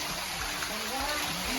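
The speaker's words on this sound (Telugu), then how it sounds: "సో పైనుంచి నీళ్ళు పడుతున్నాయి." Water falling from above onto hillside stone steps on Brahmagiri hill near Nashik, a steady close trickling stream with splashing.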